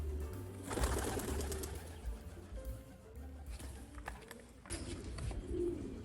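A pure-bred inbred homing pigeon coos in soft, repeated rumbling phrases from close by, with faint background noise and no talk.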